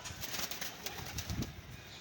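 Pigeons nearby produce soft repeated coos and a flutter of wings, continuous over a steady outdoor background.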